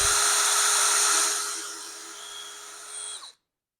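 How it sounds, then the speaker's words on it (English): A power drill bores into a part clamped in a vise while rebuilding an RC dragon plane, a loud steady high whine that eases slightly in pitch and level before cutting off sharply near the end. "Put it into the vise, tighten it up so it's not moving on me that much, and just center it over. Slowly get position and drill."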